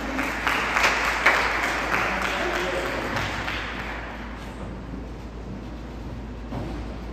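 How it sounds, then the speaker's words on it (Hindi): An audience claps at a Hindi Divas celebration, with steady, dense applause from a crowd that swells early and then gradually tapers off, heard from within the hall. "आप भी तालियों की मिठास उतनी ही बढ़ा दीजिए"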